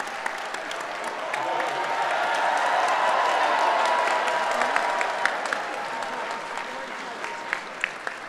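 A large convention audience at the Midwest FurFest closing ceremony claps in a broad, swelling wave of applause that peaks mid-way and then thins to scattered individual claps, with some voices underneath.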